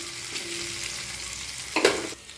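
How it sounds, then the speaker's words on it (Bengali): Potatoes frying in oil with turmeric, a steady close sizzle with a brief louder burst of stirring or scraping near the end. "আর এখানে অল্প হলুদ দিয়ে আলুটাকে আমি ভালোভাবে ভেজে নেব"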